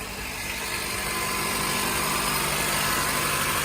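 Honda engine idling with its serpentine belt running, a steady, even drone with broadband hiss, moderately loud and close, holding level throughout with no voices.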